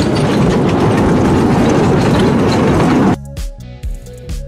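A train runs on a railway, giving a loud, dense rumbling roar with rapid clatter for about three seconds. The noise then cuts away to a quieter stretch of scattered tonal sounds and thumps.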